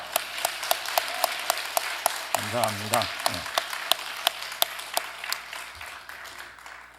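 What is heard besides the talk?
congregation applause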